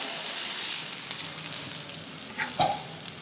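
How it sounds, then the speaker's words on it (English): Paneer pieces pan frying in a hot pan give a steady, fairly quiet sizzle, a thin continuous hiss with a brief louder crackle near the end and no talking. "I have now pan fried the paneer pieces"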